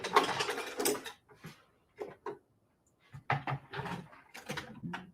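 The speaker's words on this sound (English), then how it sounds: "now I'm going to stitch on those two lines again" A sewing machine stitches an Ohio Star quilt block in short, quiet bursts of rapid mechanical whirring and clatter, separated by brief silences, close by.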